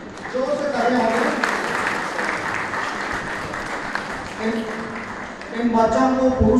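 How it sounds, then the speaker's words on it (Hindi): An audience at a Purush Diwas ceremony in Rajgangpur honouring students claps loudly and continuously, with a voice speaking over the applause at the start and again as it carries on at the end. "जोर से तालियां होंगे।"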